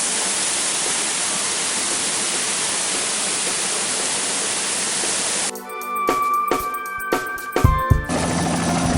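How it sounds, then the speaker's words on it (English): A loud, steady roar of cascading water fills most of the clip, then cuts to sharper clattering hits before the rushing returns. "There's water cascading around us."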